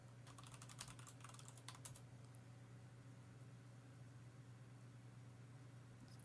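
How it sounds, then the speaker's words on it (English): Keys clatter in quick bursts as a password is typed on a computer keyboard, faint and close over a steady electrical hum, then the tapping stops. "Can you hear the password I'm typing in?"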